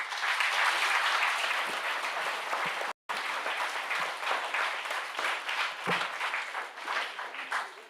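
Audience at a university mathematics department alumni meet applauding steadily in a dense, sustained round of clapping, broken by one brief cut near the start.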